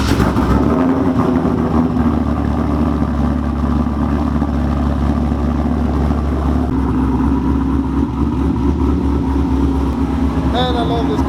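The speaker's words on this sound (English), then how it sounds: "we're gonna move this thing, do a little cold start on it" A pickup truck engine running after a cold start, a steady, close, low rumbling idle that shifts slightly in tone partway through and carries on without a break.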